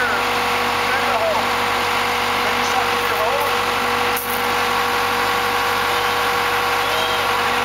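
A backhoe engine runs steadily through the whole stretch at a park bench installation on Salt Spring Island, a continuous close idling drone with brief faint clanks, no one speaking over it.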